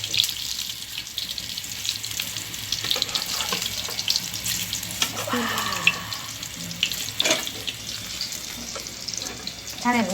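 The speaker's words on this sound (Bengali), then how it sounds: "রোলগুলি একে একে বেসিনে চুবিয়ে নিচ্ছি, চুবিয়ে নিয়ে তেলে ছেড়ে দিচ্ছি" Cabbage roll pakoras, battered in gram flour and stuffed with boiled cabbage and mince, fry in hot oil with a steady, fairly faint hiss and crackle and a few sharper pops throughout.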